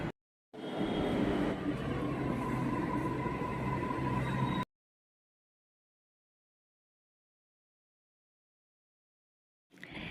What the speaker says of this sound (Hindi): ये मेट्रो जा चुकी है